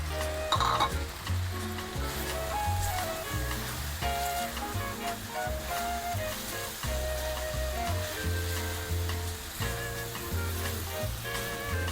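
Ground pork giniling with quail eggs frying in a pan, a steady loud sizzle with stirring scrapes running throughout, no voices.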